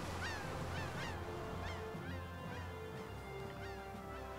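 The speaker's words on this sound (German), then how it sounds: "Diese Möwen nerven mich gerade übel." Seagulls call in the video game Tales of Vesperia, giving a series of rising, honking cries in irregular succession. They sound quiet and somewhat distant over a low, steady background hum.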